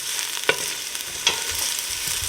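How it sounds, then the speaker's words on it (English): Onions and garlic cook together in a pan with a steady, close sizzle. Two sharp scraping knocks from stirring stand out over the hiss, with no voices. "When you're cooking the onions and the garlic together, you have to stir it occasionally."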